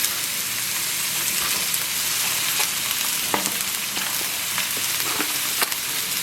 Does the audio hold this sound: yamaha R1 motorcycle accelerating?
no